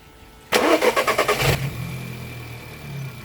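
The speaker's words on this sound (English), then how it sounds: "Reconnect the battery, start the engine and watch the belt in motion." A VW Polo 1.2 TSI engine cranks with rapid rhythmic pulses for about a second, then catches and settles into a low steady idle, with a newly replaced serpentine belt.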